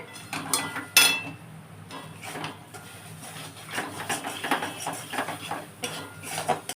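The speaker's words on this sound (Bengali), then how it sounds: "এবারে আমি মশলাটা কষবো" Spices fry in a pan while a utensil scrapes and clinks against the metal, with irregular close knocks and stirring scrapes and a soft sizzling hiss underneath, faint overall.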